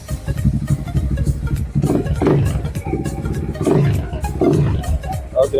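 Motorcycle engine revving after an exhaust gasket replacement: loud, close rumbling exhaust that swells in several throttle blips over a steady idle.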